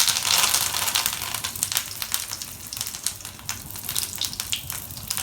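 Rubbed fish laid into a hot pan for Kerala-style pollichathu, a steady crackling sizzle of frying oil that stays loud throughout, with no talking.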